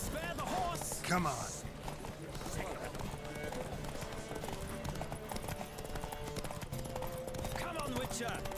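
A horse gallops with steady, rapid hoofbeats during a race in The Witcher 3, heard faintly under game music and voices, with a brief whinny early on.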